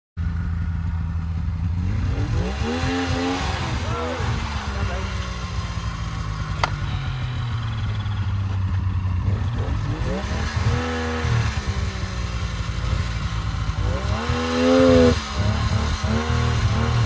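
A Polaris snowmobile engine stuck in deep powder revs hard in repeated surges, climbing and falling in pitch over a steady idle, close and loud, with a person speaking briefly in between.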